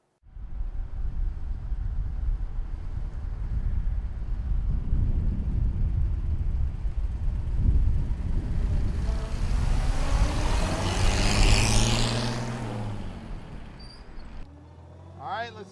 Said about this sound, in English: That little straight six is making power.